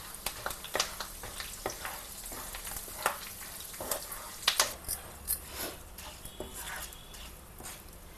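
Chillies and curry leaves crackle and spit in hot oil for a drumstick pickle tempering, with steady sizzling broken by sharp pops and occasional spoon clinks, close and moderately loud with no talking.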